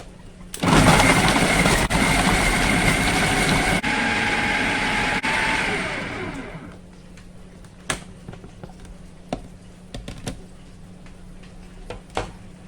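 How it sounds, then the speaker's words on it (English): A kitchen blender grinds chilli crab paste for Singapore chilli crab, a loud steady whirring roar for about six seconds before it stops, leaving only a few faint clicks and knocks. "what I'm going to do is then to try to blend it in my blender."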